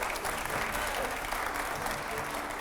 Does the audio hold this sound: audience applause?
yes